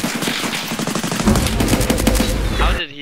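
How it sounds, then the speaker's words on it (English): Rapid automatic gunfire in Escape From Tarkov rattles out as a dense, loud burst of shots lasting nearly three seconds before cutting off abruptly. "I literally unloaded a mag into his head"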